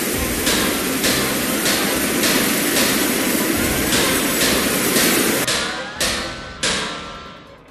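A hammer repeatedly striking a ship's engine in the High Seas VR survival game, loud regular metallic blows over a constant engine drone, the final few hits ringing out more distinctly as the background fades.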